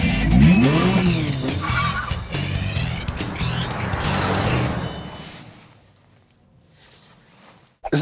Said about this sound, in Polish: Żadnym samochodem tak szybko jeszcze nie wyjechałem z tego garażu, a już żadnym na pewno nie tak szybko na mokrej płycie